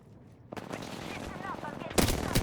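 Sustained automatic gunfire in a shooter game, rattling continuously after a quiet opening and growing louder near the end, with a player speaking over the shooting.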